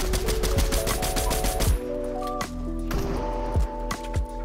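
Fortnite gunfire cracks in quick succession, a rapid sharp volley up front and then a few spaced single shots over game music, fairly loud and close.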